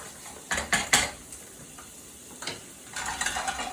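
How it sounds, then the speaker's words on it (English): Risotto being stirred in a pan with a handle, with a few sharp clinks and scrapes of a utensil against the metal and a soft sizzle underneath, in irregular bursts. "Let's give the risotto a stir."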